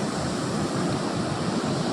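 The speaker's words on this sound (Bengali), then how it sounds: "এই দেখো সমুদ্রের হাওয়া" At a seashore, wind and surf make a constant, close roar with a low rumble of waves, heavy wind buffeting throughout and no one speaking.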